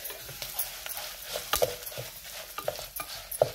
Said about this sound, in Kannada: ನಿಧಾನ ಕಡಲೆಬೇಳೆ ಕೆಂಪಾಗುವಷ್ಟು ಫ್ರೈ ಮಾಡುವ